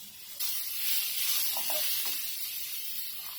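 Chopped carrot and cauliflower sautéing in a pan give off a steady sizzling hiss that swells after a soft start, with a few faint stirring scrapes partway through.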